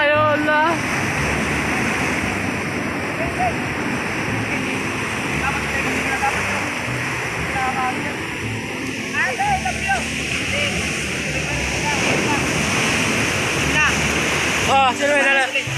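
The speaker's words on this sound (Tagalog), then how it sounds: "Ang lalaki ng alon" Heavy ocean surf with large waves roars steadily throughout, a broad wash of crashing waves with wind noise, while people talk and call out nearby over it.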